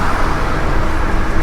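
A road vehicle on the move, its steady broadband roar of engine and tyre noise holding at a constant level throughout.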